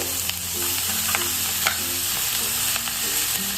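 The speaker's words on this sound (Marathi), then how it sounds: "मसाला हलका मिक्स करून घेतो" Spice masala is stirred as it fries gently in a pan over a low gas flame, giving a steady soft sizzle with light scraping strokes from the stirring.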